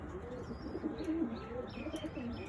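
Low, warbling coos from adult breeding pigeons fill a Madras pigeon loft, several birds calling continuously and overlapping at moderate distance, with a few faint chirps and no speech.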